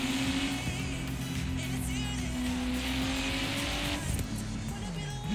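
A tuned car in Forza Horizon 3 races hard, its engine droning loudly with a high turbo whistle riding above and a brief tire squeal near the end.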